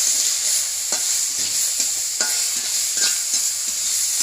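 Onion frying in oil, headed for a dried-fish dish with water lily stems, makes a bright, constant sizzle close up, with repeated stirring scrapes and taps at irregular intervals and no speech.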